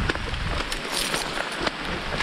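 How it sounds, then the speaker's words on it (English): Rain falls steadily and grows heavier outdoors in the Peak District. A dense patter of drops hits nearby surfaces close to the listener, and nobody speaks. "The rain's getting heavier."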